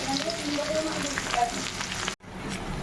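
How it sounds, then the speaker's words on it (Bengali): Onion sizzling loudly as it hits hot oil, for katla fish kalia, a steady frying hiss that cuts out briefly near the end and then resumes. "পেঁয়াজটা ছেড়ে দিলাম"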